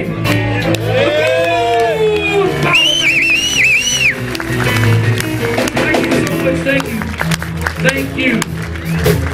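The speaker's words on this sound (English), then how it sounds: "Can I get a nice big round of applause for my fantastic band?" A live blues concert crowd at De Steiger in Menen, Belgium, cheering loudly for the band with whistles, whoops and shouts, a dense and continuous roar against sustained music in the background.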